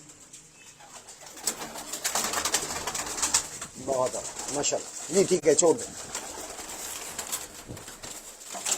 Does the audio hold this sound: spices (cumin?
no